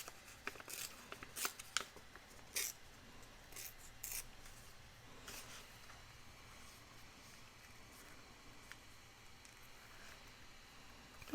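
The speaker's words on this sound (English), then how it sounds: "so we'll tear a little of that off" A strip torn off a light paper sheet during journal crafting: a few short, close ripping and rustling bursts early on, then faint quiet handling.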